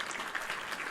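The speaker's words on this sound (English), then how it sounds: "That is all of you collectively clapping" A brief, dense burst of audience applause, steady clapping heard alone for under a second.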